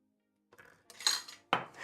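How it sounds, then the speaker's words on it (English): Hand whisking in a bowl, a few short metallic clinks and scrapes of a whisk against the bowl after near silence, close and fairly quiet. "Hand whisking May, is that possible?"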